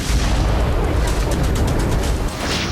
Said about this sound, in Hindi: चमक के साथ जोरदार धमाका हुआ